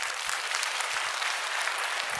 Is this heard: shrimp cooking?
no